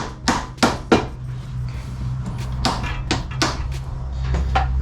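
A hammer taps out a suspension part on a BMW E60 535d with about eight sharp metallic strikes, irregularly spaced over a steady low hum.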